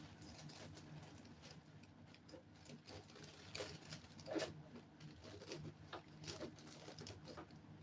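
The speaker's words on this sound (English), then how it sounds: "You sew up to where the mark stopped." A sewing machine stitches a bomber jacket seam, a faint low mechanical hum with soft, quick ticking and a few slightly louder clacks, heard alone and quietly.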